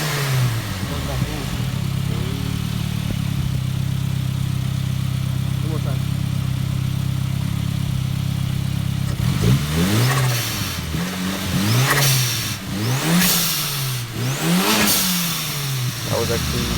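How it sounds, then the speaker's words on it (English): A Saab turbo car fitted with an adjustable GFB blow-off valve idles steadily, then revs hard several times in a row, each loud rise ending in a sharp whooshing release. "a GFB blow-off valve that is adjustable, so you can make it quiet as can be, or pretty loud."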